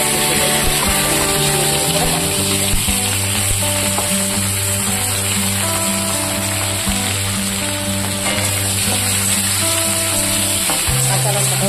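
Fried fish pieces and chillies sizzling in hot cumin-tempered oil in a wok, a steady loud crackle running throughout with soft scraping stirs, while a faint tonal hum sits underneath.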